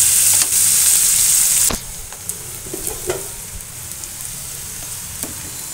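Onion, bay leaf, cardamom and whole cumin hit hot oil with a loud, close sizzle that drops abruptly to a quieter steady fry, with a few stirring clicks afterward.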